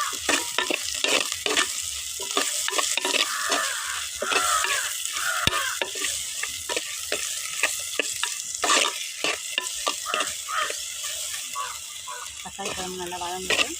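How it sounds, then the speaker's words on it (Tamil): Onions and tomatoes sautéing in a pan for a village-style sundakkai kuzhambu, a steady close sizzle with repeated scraping stirs and occasional clinks of the spoon, with no talking. "வெங்காயம் நல்லா வதங்கிடுச்சு. தக்காளி பழம் போட்டுக்கலாம்."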